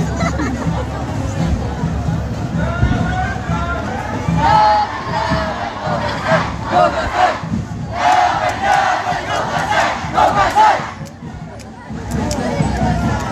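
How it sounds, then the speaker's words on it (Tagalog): A large crowd of children shouts and cheers at an inter-district sports tournament, with loud overlapping yells in bursts and a steady babble throughout, while an adult voice talks over the noise. "Sigaw kayo, sigaw!"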